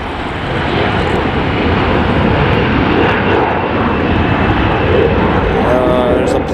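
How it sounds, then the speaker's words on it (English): Jet airliners taking off and landing at Los Angeles International Airport, a loud continuous engine roar that stays steady throughout, heard close by from the airfield's north side. "There's a plane taking off to my right, and there's a plane landing right now."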